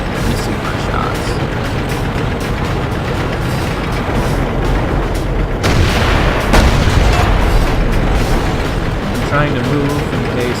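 The KV tank's 107mm gun fires in World of Tanks, giving a heavy boom over a constant rumble of engine and battle noise, with a second blast soon after.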